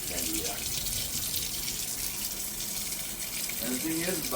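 Tap water runs steadily into a utility sink during rinsing, a continuous close splashing wash with faint voices murmuring underneath.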